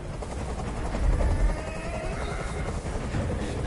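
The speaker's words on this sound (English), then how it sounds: "Tell that helicopter to get out of here." A loud, continuous rotor thumping and rumble of a helicopter hovering overhead in the video game Detroit: Become Human, with a constant mechanical roar.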